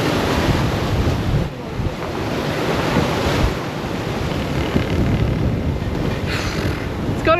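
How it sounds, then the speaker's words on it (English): Gale-force wind roars across the microphone on a racing yacht at sea while waves surge and crash around the hull, a loud, continuous rush with swells rising and falling throughout. "It's gotten windier now."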